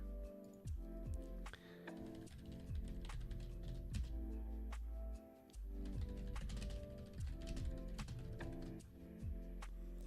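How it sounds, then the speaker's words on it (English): Rapid clicking keystrokes on a computer keyboard patter in quick irregular bursts, close and crisp, with brief pauses between runs of typing over a low background hum. "I don't know why I'm typing all this."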